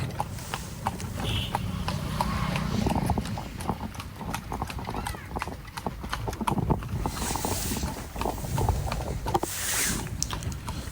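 Horse hooves clip-clop steadily in a rapid, even rhythm on a ride at the Taj Mahal, close and continuous beneath busy outdoor noise, with brief high whistles near the end.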